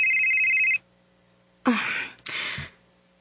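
A telephone rings with an incoming call, a steady electronic ring tone that cuts off, followed by two short bursts of noise.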